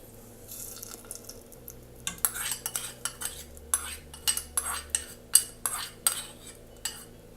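A sizzling tempering is poured into a pot of fenugreek-greens dal, followed by a quick run of metallic clinks and scrapes as a spoon stirs it against the vessel, fairly close and without talk.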